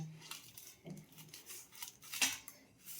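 A knife scrapes and clinks against a tray while cutting set maida barfi into pieces, giving quiet intermittent scraping strokes and small metallic taps in a calm kitchen.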